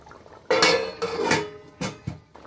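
A lid clatters onto a pan of rohu fish curry with onion stalks and potato, a sharp metallic clank followed by a few lighter clinks and rattles as it settles, close and loud.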